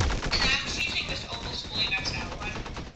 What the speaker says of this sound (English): Someone's using the default AK-47.